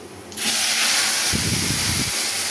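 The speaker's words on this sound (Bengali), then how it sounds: "আর ডালে নাকি এভাবে শব্দ না হলে ডাল স্বাদ লাগে না।" Dal (lentils) added to a hot pan of fried onions sets off a sudden loud, steady sizzling hiss that continues unbroken, with a brief low bubbling rumble partway through.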